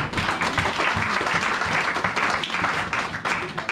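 A church congregation applauds and cheers during a French-language service, a dense, steady wash of many hands clapping close by with no voices standing out, sustained without a break.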